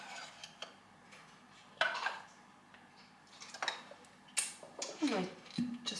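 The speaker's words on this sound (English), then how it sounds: "let's scrape the last bits out of this condensed milk" A spoon scrapes the last bits of condensed milk out of a can while making salted caramel apple crumble, giving a handful of short, faint metallic scrapes and clicks spaced irregularly with quiet gaps between.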